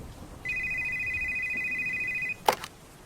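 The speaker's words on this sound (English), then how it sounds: "when the phone started ringing" A telephone at a Pizza Hut rings with a steady electronic warble that holds for about two seconds, then cuts off into a brief clatter as the receiver is picked up, with a quiet background and no speech.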